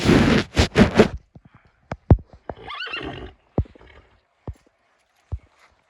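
A mare gives a loud whinny at the start, then hooves clop and thud irregularly on a hard surface, with a softer snort in between.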